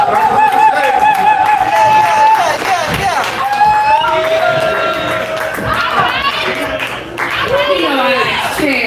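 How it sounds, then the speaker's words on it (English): An audience at a Dallas Poetry Commission anniversary show claps and cheers with loud whoops and shouts as a poet walks up to the stage, the crowd noise continuous and close. "Clap all the way up to the stage."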